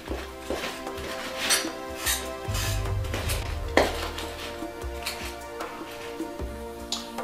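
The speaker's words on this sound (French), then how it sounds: "on va prendre notre lame, on va venir hacher menu nos ingrédients" A knife on a cutting board finely chops cranberries and thyme for turkey burgers, with irregular taps and knocks of the blade over a background musical hum, close and clear.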